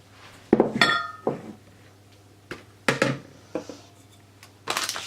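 Ceramic bowl taken out in a home kitchen while baking brownies, with several sharp clinks and knocks of dishes spaced across the moment, close and fairly loud against a low steady hum.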